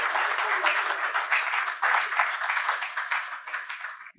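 After a lecture at a Gujarati literary event in Ahmedabad, an audience applauds with dense, sustained clapping that runs steadily for about four seconds before cutting off abruptly.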